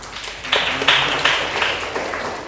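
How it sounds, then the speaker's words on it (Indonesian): A short burst of applause from a small group in a classroom, scattered claps rising quickly then thinning out over a couple of seconds. "Tepuk tangan dulu."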